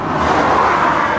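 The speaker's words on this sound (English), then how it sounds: "Excuse the traffic, I'm right next to the road" Steady, loud road traffic rushes past close by on a roadside in the Pennines, a continuous car hum and wash with no gaps and no talk.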